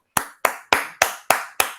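Six crisp, close hand claps land at a steady, unhurried pace, each one sharp and isolated against silence.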